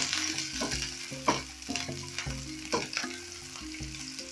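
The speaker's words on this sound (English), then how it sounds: "Then I'm going to add in my onions, and I'll saute this till they start turning translucent." Chopped onions sauté in hot cooking oil for a fish curry, giving a steady sizzle with a few sharp stirring scrapes over background music.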